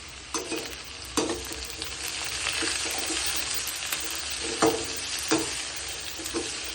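Onions with salt stirred in a frying pan while making bachelor-style tomato rice, a steady sizzle broken by repeated scraping strokes of the spoon every second or so, close and alone without talk.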